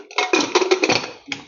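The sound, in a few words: lid being put on a pot cooking chole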